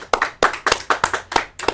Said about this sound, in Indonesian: Tepuk tangannya dong untuk Pak Jimmy Suhadi.